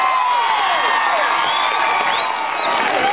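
A large crowd at a rodeo concert in Clovis cheers and whoops loudly and steadily, a dense, continuous roar of voices with scattered shouts rising above it.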